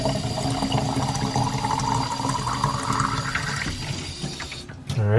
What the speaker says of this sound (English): So we're gonna put in some hot water.